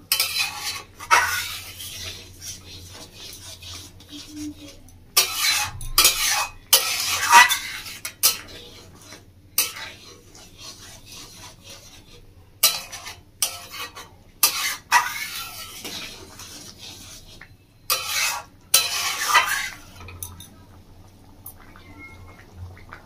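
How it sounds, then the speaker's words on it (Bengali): Whole urad dal being stirred with spices in a pan, with intermittent bursts of scraping and clinking spoon-on-metal strokes separated by quiet gaps, close and fairly loud. "ডালটা খুব ভালো করে মশলার সাথে মিশিয়ে নেবো।"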